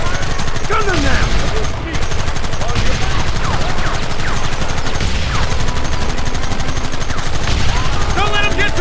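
Sustained gunfire from a Red Dead Redemption shootout, dense overlapping shots and bursts rolling continuously under game music and shouted voices, loud throughout.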